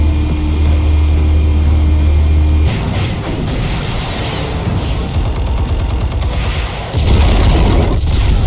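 Explosives detonating in the Batman Telltale video game: a loud, heavy booming rumble that drops back briefly, then swells again with crackling debris and a fresh low blast near the end.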